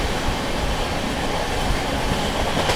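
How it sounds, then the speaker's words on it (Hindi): The Tamil Nadu Superfast Express rolls alongside the Malwa Superfast Express in a parallel overtake, giving a dense, continuous rumble and rush of wheels and carriages, loud and steady throughout with no voices. "अपनी Tamil Nadu superfast express parallelly overtake करने जा रही है मालवा सुपरफास्ट को"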